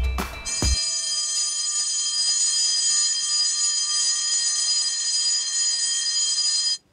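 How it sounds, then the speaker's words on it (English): An electric bell rings loudly and without a break for several seconds, then cuts off. A short clatter comes just before it starts. "The bell."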